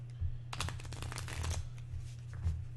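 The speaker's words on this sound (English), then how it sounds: "let me shuffle this one more time" A deck of cards shuffled for a board game, World's Fair 1893: a close, dense burst of riffling card flutter lasting about a second, then lighter card sounds, over a low steady hum.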